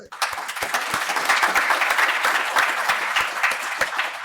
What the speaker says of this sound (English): we should recognize them with a round of applause